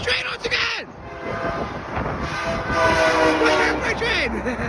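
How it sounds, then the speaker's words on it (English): A train passes nearby with a horn blast amid rumbling rail noise, while excited voices shout over the steady din throughout. "there goes train once again!"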